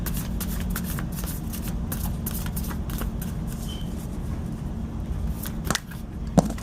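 Tarot cards being shuffled by hand, a continuous close riffling and sliding of card stock with a few sharper snaps near the end, no talking over it.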